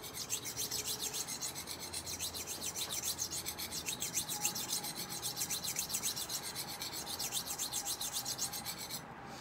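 A soft-steel butter knife being sharpened, with a steady, continuous rasping scrape of rapid, regular strokes, close and even in loudness throughout, with no voices.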